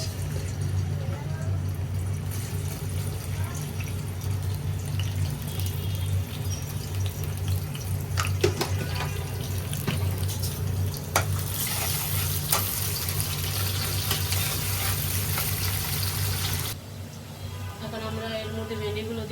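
Onion sizzling in hot oil in a home kitchen pan while okra fry is prepared: a steady, fairly loud hiss that continues under a voice talking and shifts briefly near the end.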